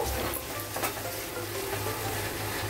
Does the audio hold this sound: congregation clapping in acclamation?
no